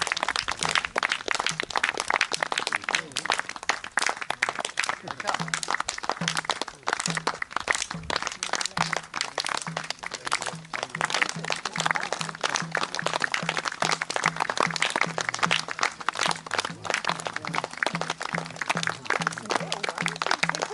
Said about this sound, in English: So we're going to clap them in.